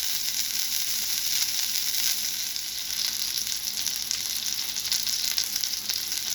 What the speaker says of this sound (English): get a little bit of a sear on each side